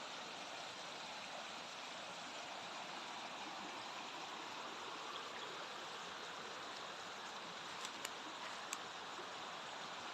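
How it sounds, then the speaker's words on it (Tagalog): River flowing beside farmland in Liliw, Laguna: a steady, even broadband rush of moving water, continuous throughout with no talk, a couple of faint brief clicks near the end. "Ito po yung part na may ilog."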